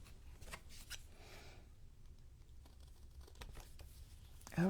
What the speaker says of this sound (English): Overkill with the big scissors